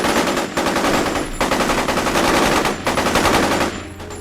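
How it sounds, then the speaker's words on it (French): Sustained automatic gunfire in the PSP game Metal Gear Solid: Portable Ops, dense loud rapid bursts filling the whole moment with only brief gaps between volleys. "C'est qui tire là?"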